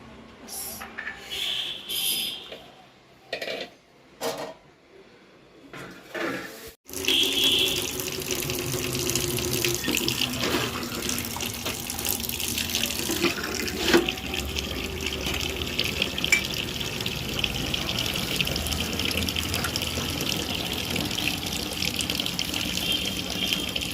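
Water runs steadily from a tap during bathing, a continuous close gush that begins abruptly after a few seconds of intermittent splashes and quieter sounds, then carries on evenly to the end.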